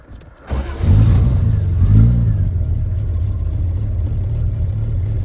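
A 1972 Triumph TR6 with a 2.5-liter inline six cranks and fires after a brief pause, then revs twice with a rising exhaust note before settling into a steady, loud, close idle.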